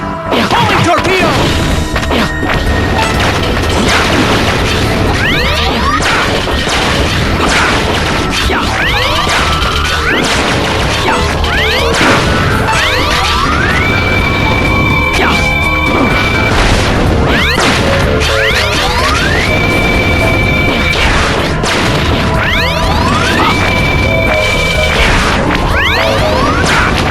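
Homing torpedo attacks exploding in Mega Man Maverick Hunter X on PSP, a dense stream of crashes, whacks and booms over busy game music and effects, loud throughout, with repeated voice callouts in the game.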